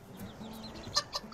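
Chickens clucking outdoors in a suburban garden near San Francisco, two short clucks near the end over a faint low background, quiet and fairly close.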